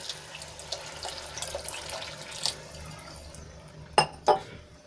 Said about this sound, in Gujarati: અહીંયા હું મોટો એક ગ્લાસ ભરીને પાણી